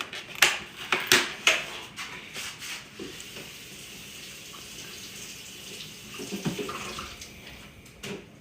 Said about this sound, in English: I'm gonna give them a quick rinse.